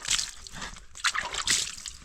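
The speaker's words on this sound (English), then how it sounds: "I'm trying to wash my gumboot a little bit and then I move out." Water sloshes and splashes in a few quick bursts as a dirty gumboot is washed, close and fairly loud, with no talking.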